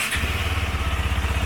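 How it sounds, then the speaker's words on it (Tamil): KTM 390 Adventure motorcycle exhaust as the throttle is raised: a steady, loud, close low-pitched engine pulse with a throbbing rhythm and some mechanical rattle, heard alone without talking. "த்ராட்டில் ரைஸ் பண்ணோன்னா நல்லாவே வரும் சவுண்டு பாருங்கள்."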